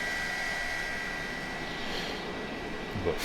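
F-86 Sabre jet engine idling in Microsoft Flight Simulator, a faint steady turbine whine with a thin high tone over a low, even rush.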